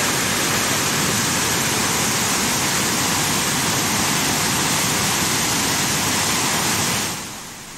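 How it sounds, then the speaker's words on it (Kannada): Flooded river roaring after torrential monsoon rain, a loud, unbroken wall of rushing water that drops off sharply just before the end. "ಈ ಹಿನ್ನೆಲೆಯಲ್ಲಿ ಭದ್ರಾ, ತುಂಗಾ, ಹೇಮಾವತಿ ನದಿ ಭೋರ್ಗರೆತಾ ಇದೆ."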